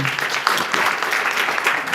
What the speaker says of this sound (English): A round of applause is Ndumiso Zulu